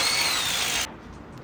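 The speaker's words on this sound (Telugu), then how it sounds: "ఇలా అయితే కొన్ని హోల్స్ వేసిన తర్వాత డ్రిల్లింగ్ అయితే చేసుకుంటాము." Power drill boring holes into a wall during a Haier 1.5-ton inverter air conditioner installation, a loud steady high whine for most of the second that cuts off abruptly, leaving quiet room noise.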